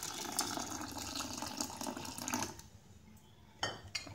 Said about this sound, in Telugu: ఇందులో మనం కొద్దిగా వాటర్ వేసుకుని